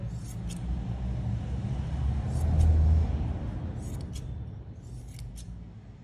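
Scissors snip through the hair of a handmade doll in a few crisp cuts close by, set against a low steady background rumble, with no talk.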